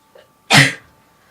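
A single loud sneeze bursts out close by, short and sharp with a quick fade, during a tabletop role-playing game session, preceded by a faint breathy intake.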